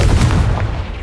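A Confringo blasting spell in Hogwarts Legacy explodes with a loud, deep boom that fills the short moment and fades only a little.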